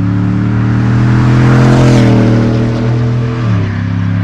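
A GMC Yukon Denali engine runs loud and close in a deep, steady revving drone, easing down slightly near the end.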